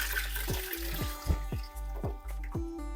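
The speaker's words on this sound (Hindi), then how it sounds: "अब इसमें गर्म पानी डाल दें" Hot water poured into a pot of beef paya soup makes a steady liquid splashing and trickling, with repeated dripping pulses over about three seconds, fairly close and alone.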